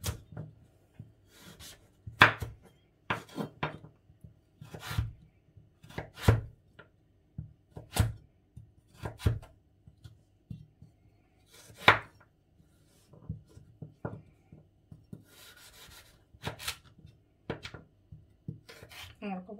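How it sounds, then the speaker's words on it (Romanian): A carrot is cut with a knife on a board for pickles, a series of sharp, crisp chops in an uneven rhythm, close and clear with quiet gaps between strokes. "Morcovul se taie puțin mai greu, însă cu puțină răbdare vom reuși să-l tăiem ușor."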